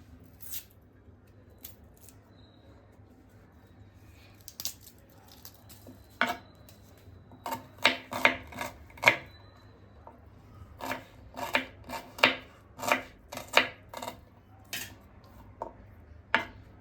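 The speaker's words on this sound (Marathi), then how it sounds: "बारीक कापून घ्यायचे कांदा." Small onions chopped finely with a knife on a board, starting with scattered cuts and then picking up into a quick, steady run of crisp chops, close and clear.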